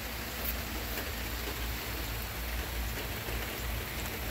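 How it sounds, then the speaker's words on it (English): Steady rain falls continuously, a dense even hiss of drops hitting surfaces, close and fairly loud with no voices. "Anyway, it's raining. Yay, look, it's raining."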